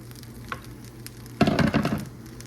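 A chicken and vegetable mixture drops into a hot pan and erupts into a loud crackling sizzle, swelling suddenly after a quieter hiss and settling into steady frying.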